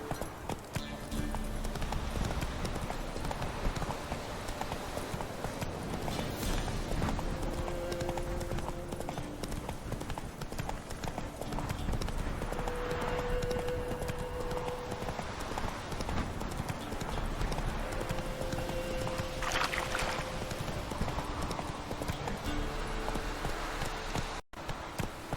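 Roach, a horse from The Witcher 3, gallops with steady rhythmic clip-clop hoofbeats that stay close and loud throughout, over ambient game sound.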